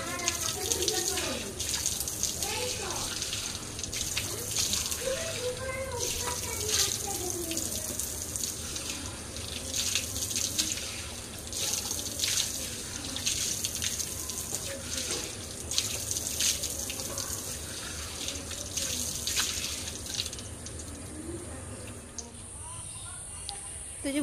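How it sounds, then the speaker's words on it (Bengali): A tap runs steadily into a sink while someone splashes water on their face, a continuous hiss with irregular splashes, and a person talks over it throughout. "তো যে মুখে টুখে জল দিলাম,"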